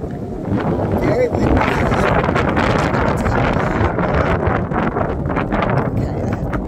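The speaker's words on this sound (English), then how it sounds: "it's getting windy here" Strong wind roars and buffets the microphone continuously, a dense rushing noise with brief gusts, while someone speaks faintly underneath.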